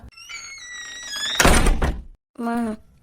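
In an animated Tamil cartoon, a door opens with a broad, noisy thud between stretches of voiced talk, close and fairly loud.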